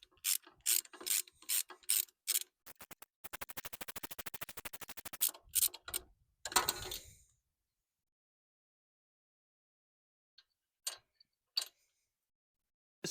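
Ratchet socket wrench clicking as it loosens a rusty spark plug with a deep 16 mm spark plug socket on a lawn mower: rapid close ratcheting bursts, then silence and a few sparse clicks near the end.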